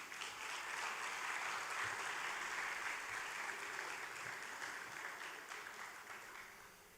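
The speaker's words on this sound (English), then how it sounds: "Let's applaud the graduates one more time." Audience applauds graduates at the Alleyne School graduation ceremony, a sustained, even clapping from a large crowd that fades slightly toward the end.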